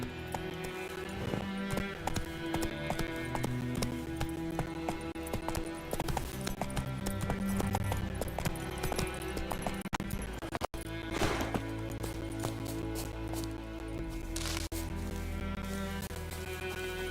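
Horse hooves clip-clopping at a gallop in The Witcher video game, a steady rhythmic beat running under dense game music and effects, with a brief crash near the middle.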